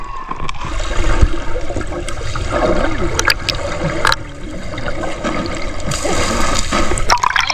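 Rushing current of the Agos River in Infanta, Quezon, a loud, steady broadband wash of flowing water that continues unbroken throughout, with occasional splashes and surges rising above it.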